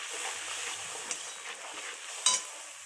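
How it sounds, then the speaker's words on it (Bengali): Spices with turmeric and salt being stirred and sautéed in a hot pan for a potato, pointed gourd and soybean curry: a soft, steady sizzle with light scraping strokes and a sharper clink near the end, no voices. "এটা ভালো করে নাড়াচাড়া করে মশলা কষে নিই।"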